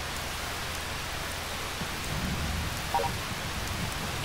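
Steady, soft hiss of falling rain on a farm in the video game Harvest Moon: Save the Homeland. It runs unbroken with a faint low rumble and no talk.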